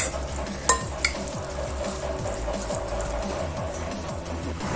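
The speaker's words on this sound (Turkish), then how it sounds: "Kaşıkla karıştırıyorum ezmeden." Spoon stirring a chopped herb and greens mixture for Gaziantep tene katması in a bowl, gentle steady scraping and clinks throughout with two brief sharper taps early on, no talking.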